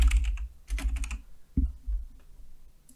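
Email address and password being typed on a computer keyboard during an account sign-up, a close, clattery run of key taps in quick bursts with short pauses, heard alone without talk.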